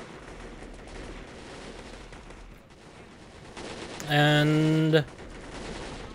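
Automatic gunfire in the war video game Warfare: a loud sustained burst lasting about a second over quiet game ambience, with a few faint voices in the background.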